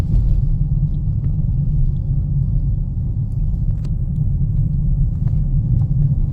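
A car drives along a two-way road during a driving lesson in Brignoles, making a loud, steady low rumble of engine and tyres throughout with no breaks.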